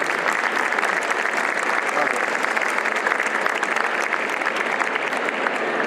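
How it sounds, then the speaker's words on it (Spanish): Steady, dense applause from an audience fills the space for several seconds at a motorsport show event in Asturias. "Quiero pedirles a todos, por favor, un aplauso"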